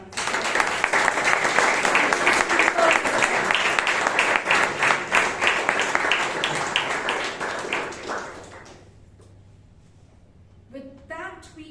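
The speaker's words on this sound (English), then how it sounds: "let us give him a round of applause" Audience applause at a Toastmasters club meeting in Bangalore, a loud, dense burst of many hands clapping that fades after several seconds, leaving a quiet room with a few faint sounds.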